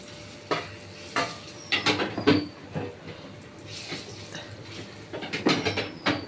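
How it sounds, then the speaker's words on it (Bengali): Lentil fritters (bora) frying in a wok, with a steady hiss broken by several sharp spatula clinks and scrapes against the pan, fairly close and with no talk. "ভেজে দিচ্ছি"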